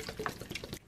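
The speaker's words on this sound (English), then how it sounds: "we're also going to add to that 2 pints of water" Water pours into a cooking pot while making hedgerow ketchup, a brief burst of splashing and gurgling for under a second, close and moderately loud, then cut off abruptly.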